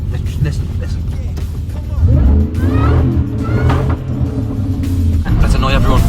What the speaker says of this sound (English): Why does the supercharger whine so loud on this truck?